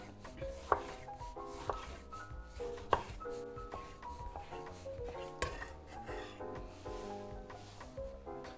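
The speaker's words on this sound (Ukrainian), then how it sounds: "нарізаємо помідорчик" A knife cuts a tomato on a board, making quiet, close, irregular chopping taps, with a few sharper knocks standing out.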